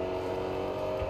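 Engine of a Jeep in Battlefield 2042 hums steadily throughout, a continuous vehicle drone with a low rumble, fairly close and even in level, no talk over it.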